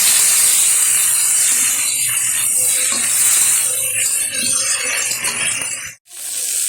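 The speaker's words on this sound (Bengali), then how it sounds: "এবার একটু নেড়ে করে ভেজে নেব" Whole flat beans with a little turmeric powder stir-frying in a hot pan, giving a steady, loud hiss and sizzle with faint scraping from stirring, which cuts off abruptly near the end.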